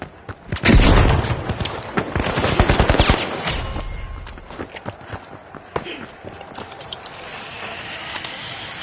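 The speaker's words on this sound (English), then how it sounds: "Throwing a frag! Frag grenade sent!" A frag grenade explodes in The Finals, a deep booming blast followed by rapid crackling gunfire and rattling impacts that fade into scattered shots and ambient game noise.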